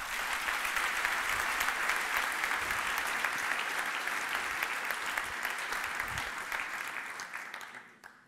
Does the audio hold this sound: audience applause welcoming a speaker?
yes